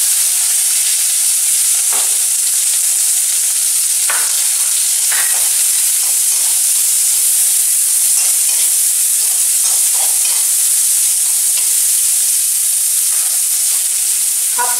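Chopped onion goes into hot oil with black cumin (kalo jeere) in a kadai, giving a loud, steady frying sizzle and hiss with occasional stirring scrapes, close and continuous, with no talking.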